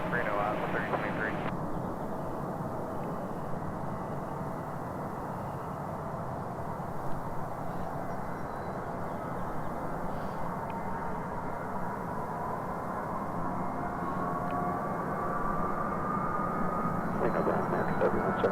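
A fixed-wing airliner roars down the runway on its takeoff run at Reno airport, a steady, broad, distant engine rumble lasting throughout, with radio and voice chatter heard over it.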